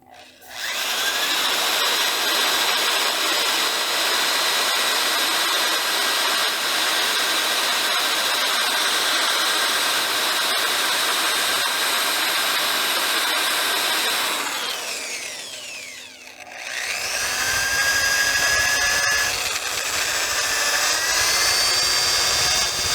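A wooden platter spins on a woodturning lathe while 400-grit sandpaper is held to its surface, giving a loud, continuous whirring hiss that dips briefly and then resumes as steady as before.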